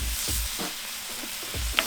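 Bacon sizzles steadily on a Pit Boss five-burner griddle, a loud continuous crackle and hiss with a few soft scraping or stirring touches.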